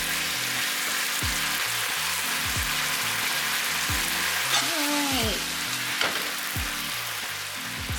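Garlic, ginger and edamame sizzle steadily in a pan with vinegar while a utensil scrapes and stirs, giving a bright, constant frying hiss punctuated by repeated knocks against the pan.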